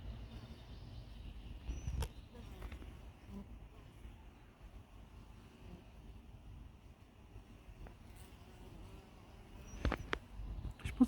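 Low, continuous buzzing of many bees hums steadily throughout, with a few sharp clicks and rustles near the start and end.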